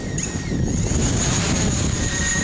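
Wind buffets the microphone in a steady, loud rush outdoors while a drone flies nearby, its thin high motor whine running through the gusty noise.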